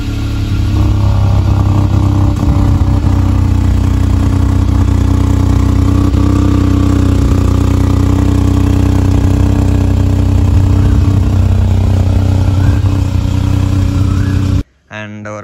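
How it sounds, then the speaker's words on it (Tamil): Hyundai i20 N Line exhaust at a cold start, a loud, steady, close-up idle rumble that holds evenly throughout, then cuts out abruptly near the end before briefly returning. "நீங்கள் கோல்ட் ஸ்டார்ட் பண்ணிங்கன்னா பயங்கர லவுடாயிரும்."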